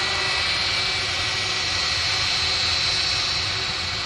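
Jet2 Boeing 757 jet engines roar steadily at an airport, a loud continuous broadband rumble with a sustained high whine, holding even throughout with no voices.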